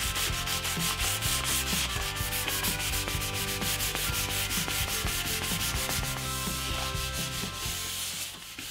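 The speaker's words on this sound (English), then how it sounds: "I just finished sanding both benches, and it really didn't take too long." White oak benches are sanded to strip an old finish, with continuous close rubbing strokes of abrasive on wood that stay loud and rhythmic throughout, with no voices.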